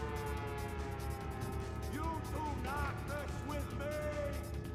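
A loud wailing siren in Grand Theft Auto, with rising and falling tones over a dense, noisy mix of game sounds.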